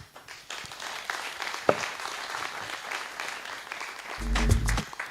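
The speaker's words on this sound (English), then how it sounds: "Let's give the CEO an even bigger round of applause as she takes her seat." Applause from a workshop audience for a CEO taking her seat, a steady patter of clapping that swells louder near the end, with a few sharp sounds mixed in.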